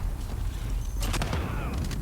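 Rapid M4 rifle fire in Call of Duty: Modern Warfare (2019), a burst of sharp close shots near the middle of the clip over a steady game-ambience rumble.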